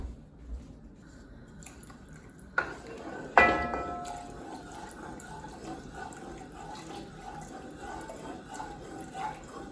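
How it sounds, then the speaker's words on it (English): Half and half pours into a pot, a soft liquid trickle with a few sharper clinks and splashes near the start, fairly quiet against a low room background. "Now I'm pouring the rest of the half and half in."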